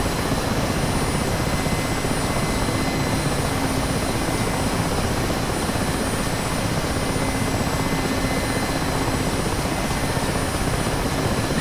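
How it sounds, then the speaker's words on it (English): Mi-8 helicopter engines idle in a video game after a cold start, a steady, loud turbine whine layered over a broad rushing drone of the rotor, constant and unchanging with no voices. "You have successfully finished this MI-8, realistic cold start procedure, and the helicopter is ready to taxi."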